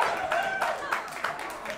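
Wrestling fans, the Berwyn Eagles, cheer and clap through a Falls Count Anywhere match, a steady crowd roar with scattered claps and sharp shouts rising in bursts.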